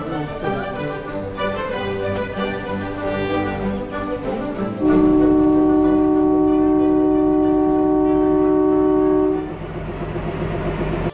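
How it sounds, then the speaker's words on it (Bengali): A train on the Shimla tourist railway pulls away, loud rolling rumble with a sustained horn blast held for several seconds in the middle, close by and without talk. "একদম কারেক্ট টাইমেই ট্রেন ছেড়েছে"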